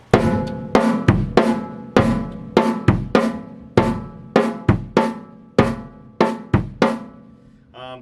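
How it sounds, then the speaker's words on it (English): A drum pattern of sharp snare hits in quarter-note triplets over steady quarter-note bass drum beats, played up close with a clear, even rhythm and no talking. "being able to play alternating quarter note triplets on the snare, quarter notes on the bass"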